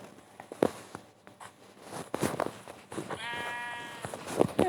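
A video game sheep bleats once in a wavering harmonic cry midway, set among scattered clicks, rustles and game sounds.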